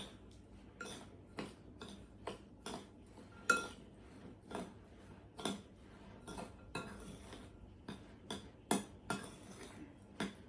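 Sausage filling being mixed by hand in a bowl, a steady run of sharp clinks and taps from a utensil striking the bowl, close and alone without talk.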